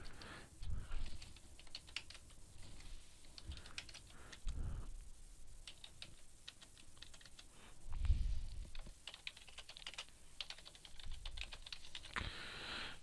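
Credit card details being typed on a computer keyboard: quick, light key clicks in irregular bursts with brief pauses, close and fairly quiet, with no voices.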